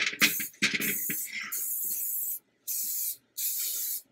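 Oil spray hisses in three short bursts onto molds for Filipino gluten-free steamed rice cakes, the first faint and the next two loud and steady, each lasting under a second, alone after some brief handling at the start.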